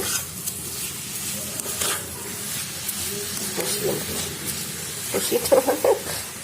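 Carrot halwa being stirred and mixed in a pan, giving soft scraping and faint sizzling under kitchen background noise, with a few louder stirring scrapes near the end.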